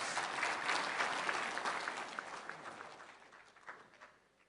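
Audience applause at a local government gathering, a dense wash of many hands clapping that starts loud and gradually thins and fades toward the end.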